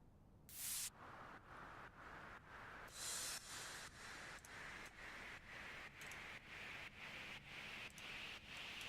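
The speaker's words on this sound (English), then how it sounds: "this right here is just a 3x OSC white noise, just the white noise generator" Hissing white noise comes from a 3x OSC synthesizer generator, pulsing in a steady rhythmic chop of even bursts. Two brighter sweeping swells break in near the start.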